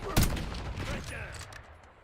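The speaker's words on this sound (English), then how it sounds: "Enemy marksman shooting" Gunfire from an enemy marksman in a video game, a loud sharp shot followed by rumbling echoing reports and a decaying tail, with a voice briefly audible underneath.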